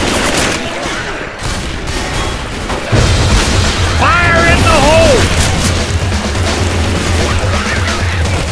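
A grenade explodes in the Left 4 Dead 2 video game as a deep boom with sustained rumble. It comes amid gunfire, and character voices call out over it.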